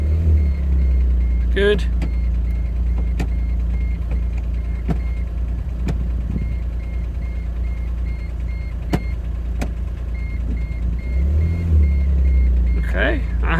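A Smart Fortwo 451 with a gear-engagement fault pulls away in first gear, its low engine hum steady throughout with faint clicks; someone speaks briefly near the end.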